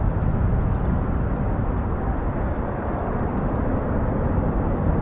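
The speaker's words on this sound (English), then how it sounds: "VTOL. Conventional takeoff." A CV-22 Osprey tiltrotor makes a conventional takeoff at an Air Force show, a loud, steady, broadband engine and rotor roar that holds evenly throughout.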